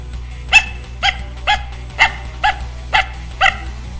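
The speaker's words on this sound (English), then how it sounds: "let's say for example I wanted to look at the dog barking." A small pug-faced dog barks seven times in a sharp, evenly spaced series, close and loud, with a low hum underneath and no talking.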